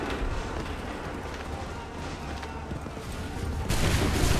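Musket volleys boom in a crowded Assassin's Creed III Remastered battlefield, fired on command amid a constant roar of combat that swells into a louder blast near the end, with shouted orders partly audible.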